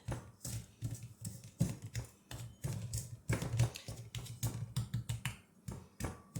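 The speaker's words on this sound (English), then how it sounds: "I'm going to use a pastry blender" Repeated scraping, clicking strokes of a pastry blender cutting shortening into flour in a bowl for buttermilk biscuits, quick and rhythmic, close up.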